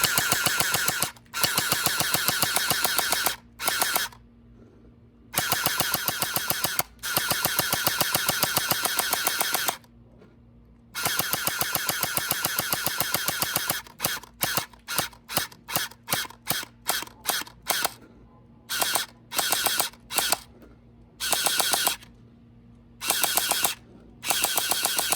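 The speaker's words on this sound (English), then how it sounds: "So let's go ahead and fire this thing. This thing is full auto" Ferventoys USP45 gel blaster firing full auto, with long sustained bursts of rapid mechanical clatter, then a string of short bursts and single taps separated by silent gaps, close and loud.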